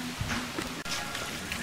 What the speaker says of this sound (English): Still pouring rain.